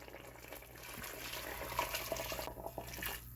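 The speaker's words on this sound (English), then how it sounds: "3 cups of hot water." Hot water pours into a pot of St Vincent-style Caribbean curry goat as a continuous, soft splashing and gurgling stream, fairly quiet and close, with no talking over it.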